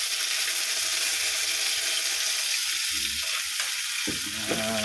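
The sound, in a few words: garlic browning in hot oil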